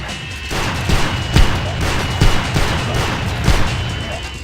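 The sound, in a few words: shotgun firing in video game Hunter: The Reckoning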